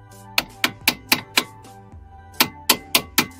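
A hammer taps a brake pad into the front caliper of a Hyundai Santa Fe during a brake job: two bursts of sharp, evenly spaced metallic knocks, five then four, close and loud with a short pause between.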